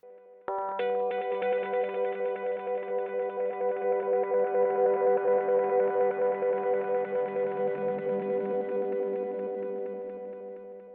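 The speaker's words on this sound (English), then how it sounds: "Pushing the low end can give you some really interesting distortion that fills out the sound a lot" A sustained, harmonically rich tone with gritty distortion starts abruptly and rings on with a wavering echo tail that slowly fades over about ten seconds.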